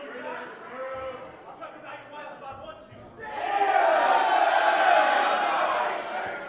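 A wrestling crowd chants for Ace, first a rhythmic group chant under commentary, then swelling into a loud, dense roar of cheering voices that fades slightly at the end.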